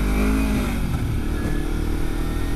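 A scooter engine runs hard while riding, a loud, close, continuous buzzing drone with slight shifts in pitch and rough wind-like noise throughout.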